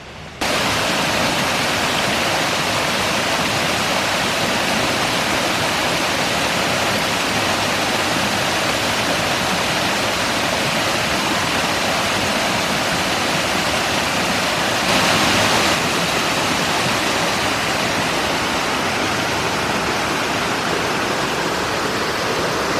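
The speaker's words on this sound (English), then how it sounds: "you can see the water rushing through over there" Water rushes through an opened channel under a bridge in a steady, dense roar that holds its level the whole time, loud and near, with no voices.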